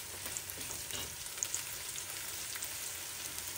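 Food browning in hot corn oil for a mango curry, giving a steady, moderately loud sizzle with soft crackles throughout and no voices.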